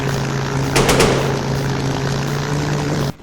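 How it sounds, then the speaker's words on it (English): An A-10 Thunderbolt plane in a GTA video game drones loud and steady, like a rotary propeller engine with a constant low hum, then cuts off abruptly near the end. "that's also been swapped by an A-10 Thunderbolt, and it sounds like a rotary engine plane"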